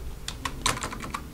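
Fingers type on a computer keyboard while running a Python program, with a few quick, close, quiet keystrokes in an irregular rhythm.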